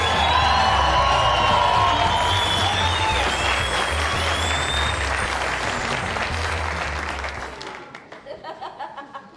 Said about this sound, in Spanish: Quiero que reciba con un fuerte aplauso a don Enrique Colavisa